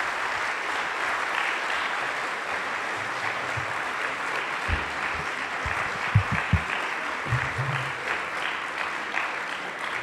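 Steady audience applause after a French academic lecture on political history and theory, a continuous even patter of many hands filling the room, with a few low thumps and bumps in the middle.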